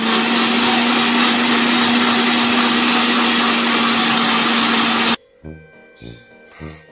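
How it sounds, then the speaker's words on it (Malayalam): A kitchen mixer grinder whirs loudly and steadily, grinding shallots, garlic and cumin into a paste, then cuts off abruptly, leaving a few faint clinks and knocks as the jar settles. "2 അല്ലി ചെറിയ ഉള്ളിയും 2 അല്ലി വെളുത്തുള്ളിയും കുറച്ച് ചെറിയ ജീരകം കൂടിയും ചേർത്ത് നന്നായിട്ട് തന്നെ അരച്ചെടുക്കാം"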